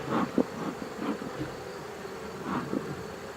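Honey bees droning around an open hive with new brood, a faint steady buzz with a few closer bees passing in brief swells.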